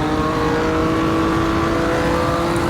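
A Puma GTB race car engine in Automobilista 2 howls at high revs on the start-finish straight, a loud, steady tonal whine that climbs gradually, with no voices.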